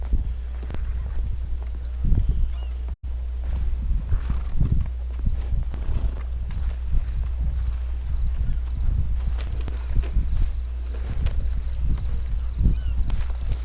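Horse hooves clip-clop steadily in the Red Dead Redemption 2 video game, an even walking rhythm of soft thuds over a low constant hum, with no talk.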